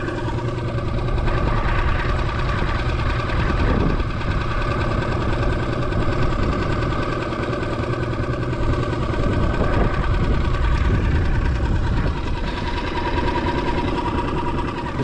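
A small Parsun outboard motor runs steadily in forward gear, a close, continuous buzzing mechanical drone with a few faint knocks and clatters, and no talk.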